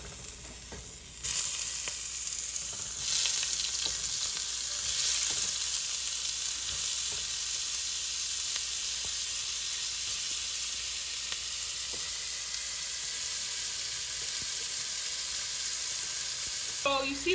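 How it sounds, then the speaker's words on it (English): Shrimp sizzle and sauté in a hot pan, a loud, steady frying hiss starting after a quiet second and running throughout with occasional stirring clinks. "I'm just gonna go ahead and saute up the shrimp"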